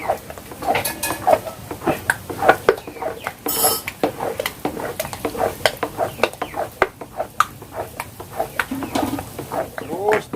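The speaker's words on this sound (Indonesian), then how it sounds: "Jadi ini memang tidak boleh berhenti untuk mengaduknya" Thick coconut milk srikaya custard is stirred in a pan, with a continuous run of close, rhythmic scraping and clinking of utensil against metal. A voice talks faintly now and then.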